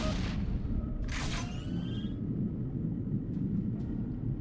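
An explosion in the video game Resistance: Retribution. It comes as a single loud, sharp blast about a second in, then a low rumble fades out over a steady background drone.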